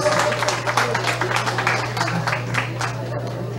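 Applause from a crowd at a classroom inauguration in rural Tuixcum, Tajumulco, a steady wash of clapping with a low constant hum underneath throughout.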